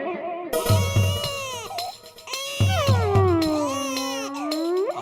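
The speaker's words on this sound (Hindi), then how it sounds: "आवाज तो आ रही है रोने के बच्चे की।" A baby cries in sustained, rising and falling wails, loud and fairly near, with short pauses between bursts and a few background thumps.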